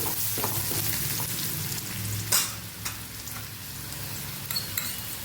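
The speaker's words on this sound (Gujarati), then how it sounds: "અને એને આપણે સરસ સાતળી લેશું" Green garlic sautéing in hot oil with popped mustard seeds and cumin, a steady close sizzle with a few sharp crackles and spatters, no talking.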